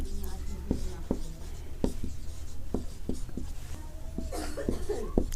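A pen scratches and taps on paper in short strokes during a geometry lesson, heard under continuous nearby speech from a teacher.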